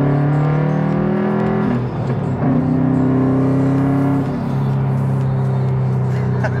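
Subaru STI in auto minus center-differential mode, rear-biased power, accelerating on a drive: a steady close engine drone with rising harmonics through a gear change near two seconds, continuous and loud.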